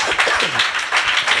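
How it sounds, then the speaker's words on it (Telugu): A church congregation at a fasting prayer meeting claps hands together, a loud burst of brisk, overlapping claps. "చప్పట్లు కొడుతూ ఆమేన్ చెప్పండి గట్టిగా."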